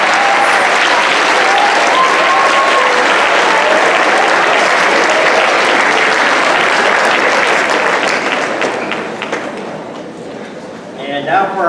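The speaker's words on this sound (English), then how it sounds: "Go ahead and give them a round of applause." Loud, sustained audience clapping fills a junior high school awards ceremony for seventh grade winners, then tapers off near the end.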